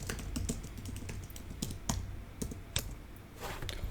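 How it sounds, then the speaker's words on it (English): Quick, uneven keyboard typing with clacky keystrokes and a few sharper taps, close to the mic, with no voices. "my keyboard is getting a little bit crazy here"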